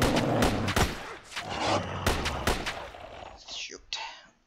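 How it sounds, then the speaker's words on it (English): A starter assault rifle in the shooter sZone Online fires in sharp bursts of cracking shots, with loud reports and echoing thumps trailing off, while someone talks quietly underneath. "right now I'm using just the newbie assault rifle"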